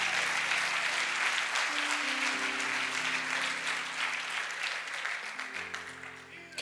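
A church congregation claps for the Lord during a sermon, sustained applause filling the room over soft held musical notes, gradually easing off.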